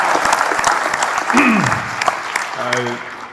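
An audience bursts into applause and cheering at a live business conference event. The clapping is loud and dense, with a voice calling out over it.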